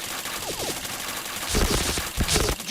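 Gunfire in the shooter game Point Blank: a few quick shots early, then louder rapid bursts of automatic fire in the second half, close and punchy with no talk over them.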